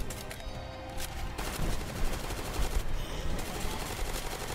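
Rapid gunfire in a Roblox zombie game, with dense crackling bursts of shots rattling on steadily over busy game sounds and no voices.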